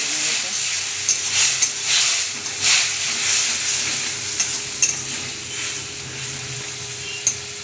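Onion and tomato fry in a pan with a loud, continuous sizzle and hiss, broken by repeated scraping strokes of a spoon stirring them, close up.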